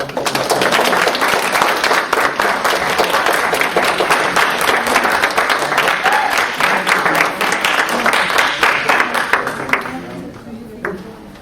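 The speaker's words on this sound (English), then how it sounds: "please give them a big aloha HPD round of applause to welcome" A crowd applauds loudly and steadily for several seconds, the clapping dense and close before tapering off near the end.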